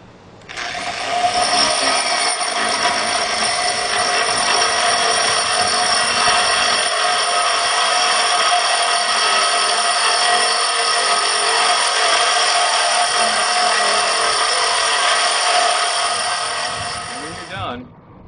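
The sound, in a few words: drill with core bit drilling a hole in granite countertop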